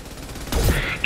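A single sharp sniper rifle shot in the video game Mass Effect 2 Legendary Edition, a loud close crack with a booming low tail about halfway through, over faint game ambience.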